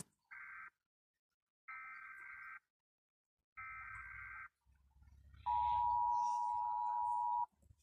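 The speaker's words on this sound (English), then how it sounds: "We're gonna go with the USA alarm." United States Emergency Alert System alarm: three separate buzzing attention tones in a row, then a long, steady, piercing single-pitch tone over a low rumble, loud and clear with no talking.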